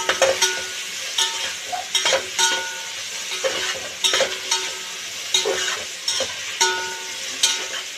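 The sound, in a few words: frying and stirring food in a pan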